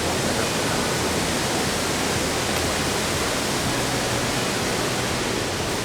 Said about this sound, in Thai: เพราะเขาบอกว่ามันเป็นน้ำตก มันเป็น